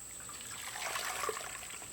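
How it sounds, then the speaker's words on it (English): A scalded chicken, a Cornish Cross being processed, sloshed in hot water to loosen its feathers; a soft, steady watery trickle and splash runs close by throughout, with no talking. "Kind of sloshing him, keep him from cooking."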